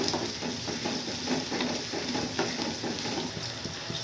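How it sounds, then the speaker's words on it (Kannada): Green chillies frying in oil in a pan for khara pongal, giving a steady, close crackling sizzle with faint stirring scrapes throughout, no voices. "ಮೆಣಸಿನ್ಕಾಯಿ ತುಂಬ ಫ್ರೈ ಮಾಡೋ ಅಂಥದ್ದು ಏನಿಲ್ಲ ಸ್ವಲ್ಪ ಫ್ರೈ ಆದರೆ ಸಾಕು"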